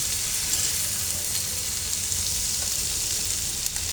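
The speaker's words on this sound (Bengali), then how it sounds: "খুব সুন্দরভাবে সবজি মাংস একদম ভাজা হয়ে গেছে।" Vegetables and meat fry in a pan, giving a loud, constant close sizzle with light crackle and no pauses.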